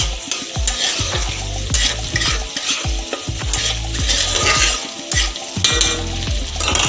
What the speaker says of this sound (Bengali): টমেটোটা ভাজা ভাজা হয়ে যাওয়ার সাথে সাথে আমরা এর মধ্যে এবার একটু নুন দিয়ে দেবো।